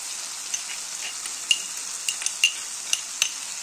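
Chopped ginger and garlic fry in hot oil in a pan for dhaba-style dal tarka, giving a steady close sizzle with scattered small pops and crackles.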